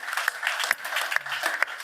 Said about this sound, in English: So have a separate round of applause for Grace